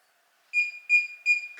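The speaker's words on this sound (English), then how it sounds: "Controller starts beeping." A DJI Mavic Air 2 or Mini 2 remote controller gives three short, evenly spaced electronic beeps while linking to the drone, clear and close in an otherwise quiet room.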